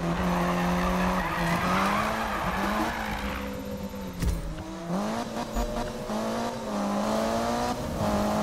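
Lancer Evo drifting in Need for Speed 2015, its engine revving hard with long tire squeals and skidding as the car slides, loud and continuous, with no talk over it.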